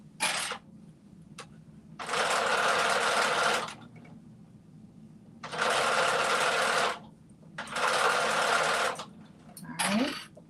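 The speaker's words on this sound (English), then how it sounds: "we are almost done sewing it on" A sewing machine stitches fabric in three sustained runs of close, loud motor whirring, separated by pauses and short taps, with a brief burst near the end.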